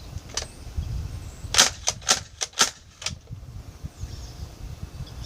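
A Nerf N-Strike Elite Strongarm blaster slam fires darts in a quick burst of five or six sharp snapping shots, close and loud against a quiet room, with a single crack heard before the burst and another just after it.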